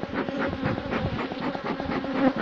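Honey bees buzz steadily around wax frames at an opened beehive, a close, continuous droning hum without pauses or voices.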